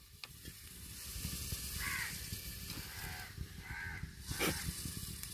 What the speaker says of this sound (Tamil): சட்டி சூடாயிடுச்சுங்க. எண்ணெய் ஊற்றிக்கிடுவோம்.